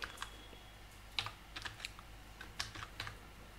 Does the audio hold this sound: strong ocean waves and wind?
no